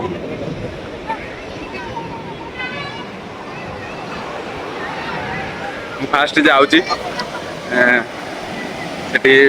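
Waves breaking on a sea beach with wind buffeting the microphone, a continuous rushing surf under loud nearby voices and chatter.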